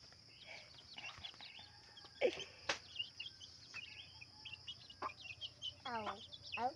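Small pet chicks cluck and peep softly in a quiet setting, scattered short calls coming at irregular intervals, faint and close, with some voices in the background.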